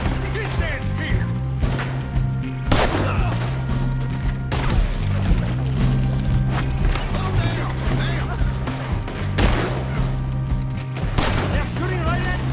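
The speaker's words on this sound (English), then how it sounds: "They're shooting right at me!" Gunfire in Red Dead Redemption 2, several sharp broadband shots spaced across a busy game mix with a steady musical drone and voices talking throughout.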